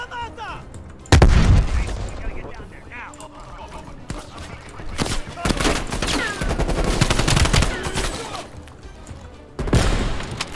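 Gunfire in a Call of Duty Cold War match, including the Pellington sniper rifle, with loud sharp shots and dense bursts of game action, while a player talks over it.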